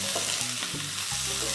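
Peppers and spices frying in olive oil, a loud steady sizzle close by with intermittent stirring scrapes.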